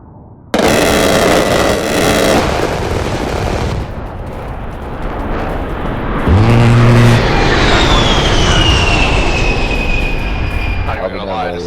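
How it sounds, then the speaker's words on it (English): Gun run air strike in the video game Insurgency Sandstorm: an abrupt, loud roar of heavy strafing and explosions, a booming impact, then a descending jet whine as the aircraft passes, with players talking over it. "Oh shit, hold on, they're calling a gun run."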